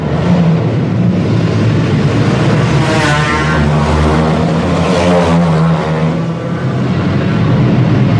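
A race car with a 5.0 engine roars loudly and steadily through a race, its pitch climbing and surging as it revs hard, with no voices over it.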